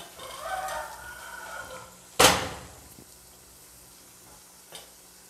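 Floured pieces of giant squid (pota) drop into hot oil with one sudden loud sizzling burst, then settle into a steady low frying hiss. There is no talking.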